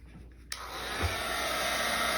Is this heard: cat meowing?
no